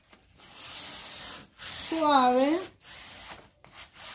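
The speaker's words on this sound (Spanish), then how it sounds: "ahora lo que vamos a hacer es ir lijando para hacerlo un gastadito" Painted white wooden spice rack being hand-sanded for a distressed look, soft rhythmic rubbing strokes close by with brief pauses, and a short spoken remark.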